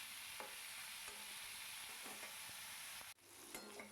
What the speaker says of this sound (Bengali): নুন হলুদ দিয়ে ফুলকপিটাকে সুন্দর করে লাল লাল করে ভেজে নেব